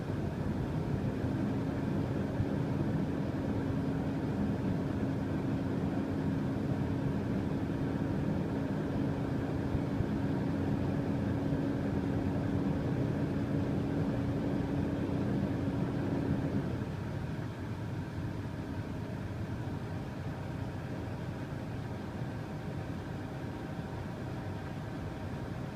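A truck's diesel engine idles steadily while the air brake compressor builds pressure toward governor cutout near 120 psi, a faint whine sitting in the rumble; after about seventeen seconds the whine stops and the idle drops slightly quieter, with no voices.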